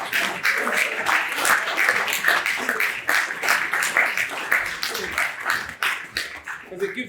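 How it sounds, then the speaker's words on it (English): Children aged 8 to 12 at a graduation ceremony clap for themselves, with loud, separate, rapid handclaps that rise and fall unevenly over several seconds, along with some chatter and voices mixed in. "Give yourselves a round of applause for giving it"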